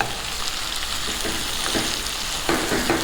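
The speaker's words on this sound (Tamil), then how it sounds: "இந்த வெஜிடபிள் வெந்துக்கிட்டு இருக்கும்போதே கொஞ்சம் லைட்டாக ஆயிலில் ஃப்ரை ஆகட்டும்" Vegetables for a stew fry lightly in oil, giving a continuous, moderate sizzle with a few soft stirring knocks near the end and no voices.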